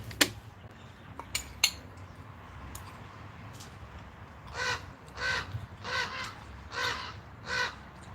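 Crows caw outdoors in a series of harsh calls, a few sharp ones early and then a steady run of louder, rhythmic caws, fairly close, with no talk.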